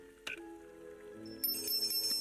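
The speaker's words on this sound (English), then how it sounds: "Oh, wait, that was a bell?" A bell rings in the Lego Batman video game, starting with a short bright strike and then a sustained, shimmering ring that swells louder toward the end over a steady game backdrop.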